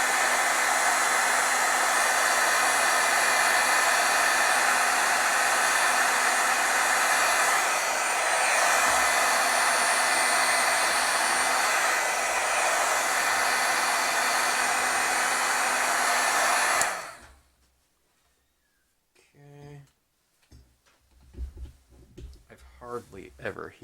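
A heat tool blows hot air to set stamped ink between layers, a loud steady whooshing drone lasting about seventeen seconds before cutting off, followed by quiet handling sounds and scattered talk.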